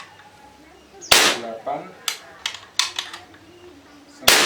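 A modified PCP air rifle fires two sharp, loud cracks a few seconds apart, with lighter clicks and knocks between them and a voice briefly counting.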